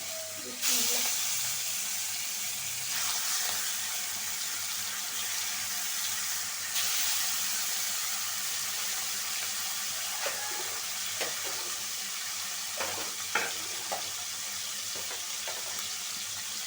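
Hilsa fish frying in an oiled pan for a curry with ash gourd gives a steady, loud sizzling hiss with small crackles and pops throughout.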